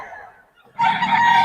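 Roosters crow and chickens cluck close by at a poultry keeper's yard in Bocaue, a short loud burst of crowing rising after a moment of quieter clucking.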